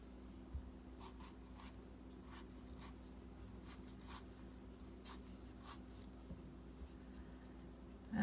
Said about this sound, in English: So you're just going to dice these tomatoes up really small.